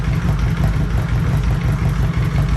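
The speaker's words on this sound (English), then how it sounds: "Cranks up without even needing the choke" A 1982 Honda Goldwing Aspencade motorcycle engine idles steadily after a cold start, a loud, close, even low rumble with light mechanical clatter running throughout.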